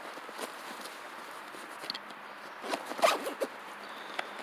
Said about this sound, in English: And then zip that up.